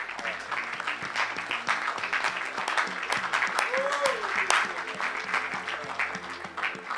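A church congregation claps in a sustained round of applause with scattered sharp claps over a bed of background music and voices, staying lively throughout.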